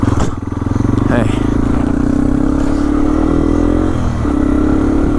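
A Yamaha TW200 motorcycle rides a dirt trail, its engine a loud steady close drone with slight pitch shifts as it accelerates. The riding runs continuously for the whole stretch and no one speaks.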